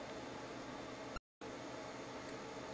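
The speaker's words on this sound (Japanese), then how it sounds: "これを水平にしてドライヤーで風を当ててみましょう。" A hair dryer blows air across a paper strip taped to a ruler, a steady broadband whoosh that cuts out briefly to silence and then resumes.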